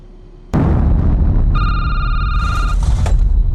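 In the video game Security Booth, a sudden loud blast breaks a quiet hum and leaves a sustained roaring rumble, with a high electronic tone sounding partway through.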